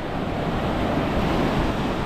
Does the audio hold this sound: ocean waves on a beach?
yes